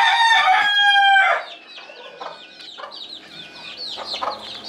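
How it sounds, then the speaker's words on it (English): Hens and chicks cluck and chatter close by, opening with a loud crowing call, followed by softer scattered clucks and peeps. "We have 2 mamas and some chicks."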